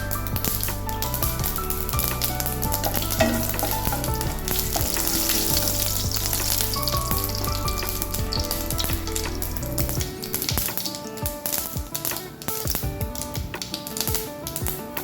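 Mustard seeds and fenugreek frying in hot oil for a Karnataka-style mango dish, a loud continuous sizzle with rapid crackling and popping throughout, a low hum fading partway through.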